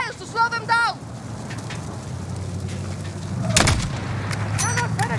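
Gunfire in Call of Duty Modern Warfare 2019 sounds as sharp cracks and bursts over a steady low rumble of game ambience, with a voice talking briefly near the start and more shots toward the end.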